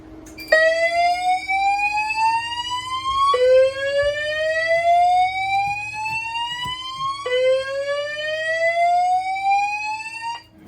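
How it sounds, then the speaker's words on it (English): A Potter PFC 4064 fire alarm system sounds continuously during a system test in loud, repeating upward-sweeping whoops, each cycle lasting a few seconds, with no voices. "That's it for the fire alarms."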